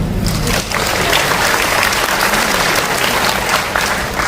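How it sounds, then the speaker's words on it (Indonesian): An audience at a Catholic revival gathering claps loudly in dense, sustained applause that fills the whole moment, close and even throughout. "Tepuk tangan."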